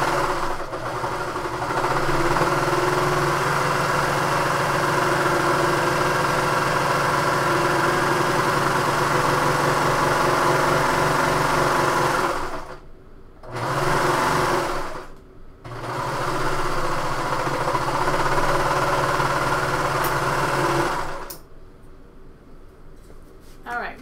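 A sewing machine finishes the edge of a bomber jacket band with a steady, fast mechanical whirr. It pauses briefly twice, runs on, then stops near the end.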